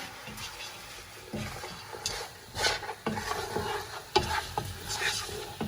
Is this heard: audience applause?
no